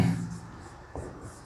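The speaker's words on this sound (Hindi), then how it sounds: "सबसे पहले हम चैप्टर का नाम लिखते हैं" Marker or chalk strokes on a classroom board as a chapter title is written, short scratchy taps with a louder stroke near the end, close and moderately loud with no talking.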